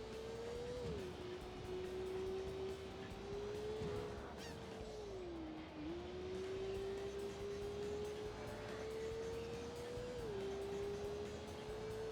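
A car drifts in the racing game Driving Emotion Type-S, its engine holding a steady droning note with small pitch shifts while tyres squeal, all moderately loud and continuous.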